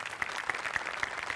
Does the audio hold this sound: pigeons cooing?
no